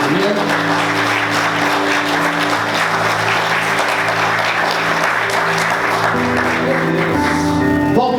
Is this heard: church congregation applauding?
yes